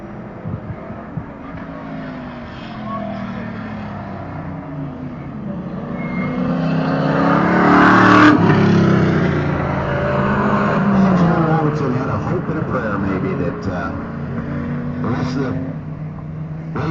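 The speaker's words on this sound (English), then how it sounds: "Carly in the number 21 Ferrari starting to fill the mirror of John Robertson." Race cars at Waterford Hills road course during a Big Bore Bash event, engines swelling from a distant drone to a louder roar as cars pass nearby, with a commentator talking over the sound.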